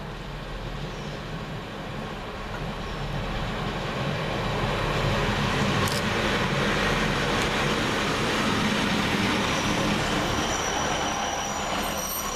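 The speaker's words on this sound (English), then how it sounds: "East Midlands trains service to Newark Castle, calling at Nottingham, Carlton, Loudon, Fiskerton, Rolleston and Newark Castle. This train is formed of 2 coaches." A two-coach East Midlands Railway passenger train running on the line toward Nottingham, heard as a loud continuous rumble of wheels on track that swells after a few seconds, with faint squealing and no voices.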